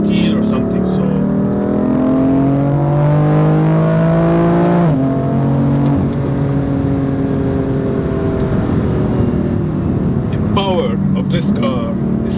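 A BMW M4 Competition engine revs and accelerates loudly up close, its rising, sweeping tone climbing through the gears before dropping back, with brief bursts of revving near the end.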